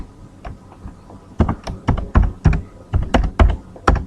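Typing on a computer keyboard, close and crisp: quick irregular key clacks, sparse at first and then in a dense run, with no voices.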